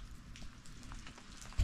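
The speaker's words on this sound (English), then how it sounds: "every time we hook onto this camper, we get rain" Rain falls steadily on a camper, a dense continuous patter with scattered louder drops and a dull thump at the end. No voices are present.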